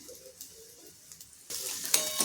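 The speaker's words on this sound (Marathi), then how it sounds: "कांदा परतला जातो आहे" Chopped onion sautéing in a pan while cooking green beans, a soft quiet sizzle at first that turns into a louder, steady frying hiss partway through.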